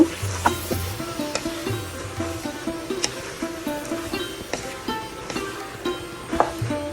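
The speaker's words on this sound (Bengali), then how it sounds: "এখন আমি এগুলো ভালোভাবে কষিয়ে নেব" Beef tripe being sautéed with spices and salt in a pan, a soft steady sizzle broken by rhythmic scraping strokes of a spatula stirring, close and fairly quiet.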